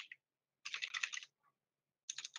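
Typing on a computer keyboard: short bursts of quick, close keystroke clicks separated by brief silent pauses, with no talking.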